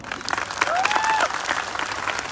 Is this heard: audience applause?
yes